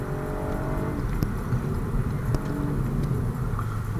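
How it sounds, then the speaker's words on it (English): Ford Fiesta ST engine holding a steady droning rev after a full-throttle gear change, heard from inside the car as a continuous loud hum with road rumble and a few faint clicks. "Full bag gear change there."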